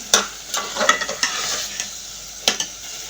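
Chickpeas for a vegetarian curry crackle and sizzle in a hot pan, with a string of sharp clatters and scrapes as they are poured in and stirred close up, no voices.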